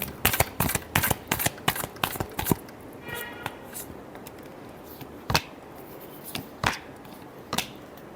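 Tarot cards being shuffled close by, a quick run of crisp riffling flicks and then a few slower slaps as the deck settles.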